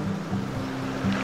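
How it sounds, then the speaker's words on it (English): Waves wash in on the golden-sand shore of Okha Madhi beach in Gujarat, a continuous rushing surf with a low rumbling undertone and no voices. "An enticing virgin beach of Gujarat with clean coastline, golden sand and splashing waves."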